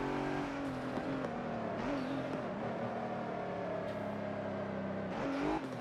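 A race car engine drives in the racing game Forza Motorsport 7, a continuous, fairly quiet engine drone whose pitch climbs and dips as the car accelerates and shifts through corners.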